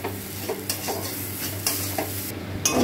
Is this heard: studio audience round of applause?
no